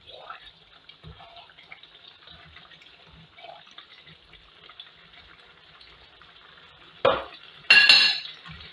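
A cornflour and water mixture is poured into a pot of meat pie filling, with soft liquid sloshing and stirring sounds followed by two louder splashing pours near the end, close by.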